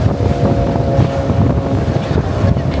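A small boat speeds back across open water near Borneo, its motor droning steadily under loud wind buffeting and water rush, close and continuous with no talk.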